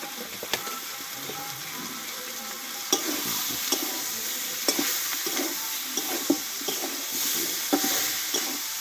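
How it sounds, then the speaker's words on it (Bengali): Raw jackfruit fries with spices in a pan, giving a steady soft sizzle broken by repeated sharp scraping clicks of a utensil stirring the mixture, close and moderately quiet. "দেখো মশলার সঙ্গে ভালোভাবে কষিয়ে নিয়েছি"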